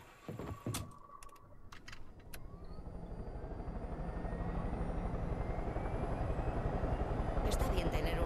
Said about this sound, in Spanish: ¿Tengo que aterrizar en serio con el helicóptero?